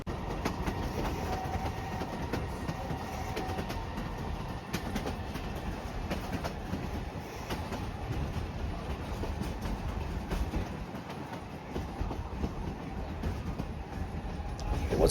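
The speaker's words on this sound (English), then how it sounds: "hiked out the next morning to the rhythmic rumble of the narrow gauge train" A narrow gauge train rumbles steadily through the mountains, a continuous low roar with rhythmic clickety-clack of wheels on rail and occasional metallic squeals, loud and unbroken throughout.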